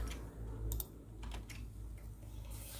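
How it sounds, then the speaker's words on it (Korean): Text typed on a computer keyboard, a quiet run of irregular key clicks with a few louder strokes, close and alone over faint background hum. "한 문단이 끝나면 엔터 키를 치고 그 다음 문단을 입력을 합니다"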